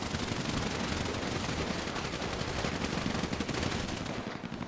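Rapid, dense gunfire from an online multiplayer shooter battle, a loud, nearly unbroken stream of automatic weapon bursts that barely lets up and thins slightly at the end.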